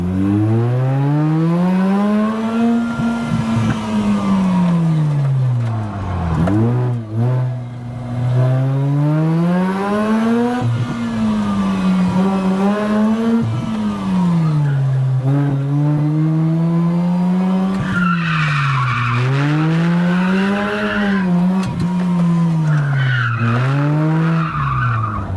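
A rotary-engined Mazda MX5 drifting on a go-kart track, its engine droning and rising and falling with throttle while tires squeal in long skids, loud and continuous throughout.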